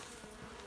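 Bees at a winter-wrapped beehive give a low, continuous buzz that is close but faint and heard alone for under a second.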